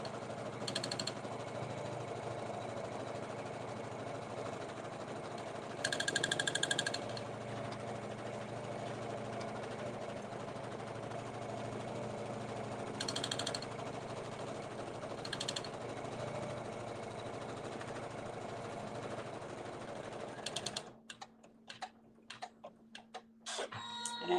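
An embroidery machine stitches down appliqué fabric in a steady, continuous mechanical whir with brief louder bursts, close and without talk, cutting off near the end to quieter clicks.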